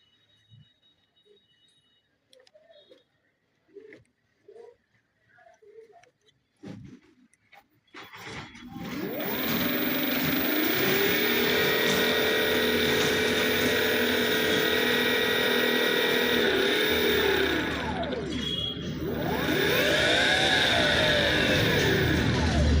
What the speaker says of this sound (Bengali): তারপরও মোটর চলে।